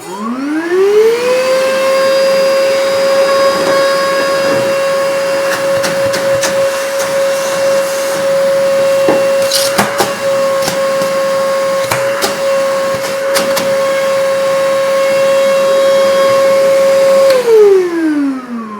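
A cordless compact wet/dry vacuum spins up, holds a loud, steady motor whine with a strong tonal hum close to the microphone, then winds down at the end.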